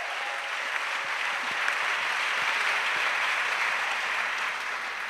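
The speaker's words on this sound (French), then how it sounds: "Clap for Jesus." A church audience claps in a steady, moderately loud wash of applause, evenly sustained, with no clear voices over it.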